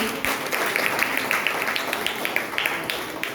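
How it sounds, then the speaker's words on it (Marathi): Schoolchildren at a parenting workshop at an international school clap together in sustained, dense applause. The patter is steady and close, with scattered sharper claps rising above the mass. "5वी ते 7वी सगळ्यांनी टाळ्या वाजवा यांच्यासाठी पण."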